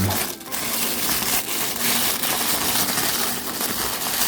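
Plastic and cardboard packaging of a Captain Toad toy from Super Mario being torn and crinkled open, a dense continuous rustling and crackling close by with a few brief pauses.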